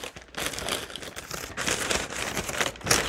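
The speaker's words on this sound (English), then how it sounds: "So lots of crinkling." Gift wrapping paper crinkling as a Christmas present is opened, close loud rustling and crumpling in uneven bursts with brief lulls between them.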